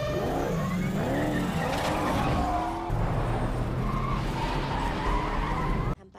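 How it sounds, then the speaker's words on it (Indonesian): Cars chase around a race track, tires squealing and skidding loudly with rising and falling screeches over engine roar, ending abruptly. "Min-jae pun mulai melajukan mobilnya mengejar Jae-chul di posisi yang sudah ditentukan Sion."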